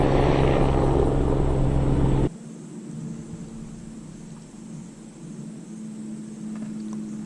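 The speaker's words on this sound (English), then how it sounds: "Choppers." Helicopters fly overhead above an abandoned golf course, a loud, steady rotor thrum that cuts off abruptly and leaves a quieter, fainter engine drone in the distance.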